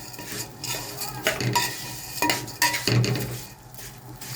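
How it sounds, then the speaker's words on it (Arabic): Vermicelli toasts in a pot for Egyptian koshari while a utensil stirs it, making irregular scraping clinks against the metal over a faint sizzle, with no talk. "احمر الشعريه"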